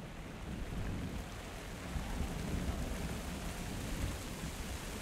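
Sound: thunderstorm rain and thunder in Minecraft Story Mode video game

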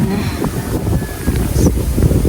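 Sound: wind blowing outdoors

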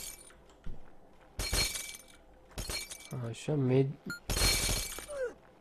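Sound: glass bottles shattering in the video game Happy Wheels

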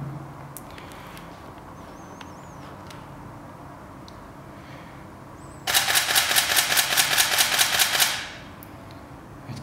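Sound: Canon 5D Mark III camera shutter burst shooting

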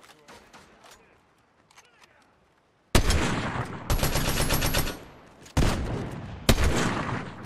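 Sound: gunshots in Fortnite video game

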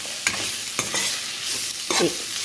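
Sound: stirring chicken with chili masala in a pan

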